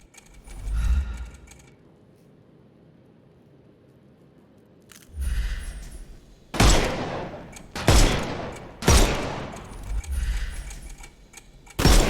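Gunfire in the Sherlock Holmes Chapter One video game: several sharp, loud shots and short bursts crack out in the second half after a quiet stretch, each ringing off briefly.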